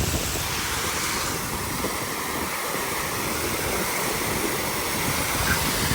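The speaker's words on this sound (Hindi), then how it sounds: "फाउंटेन चल रहे हैं यहाँ पे।" Water splashing from a goat statue's mouth in a city fountain in Malmö, Sweden, a steady dense outdoor rush of running water with no breaks, fairly loud and close, no voices.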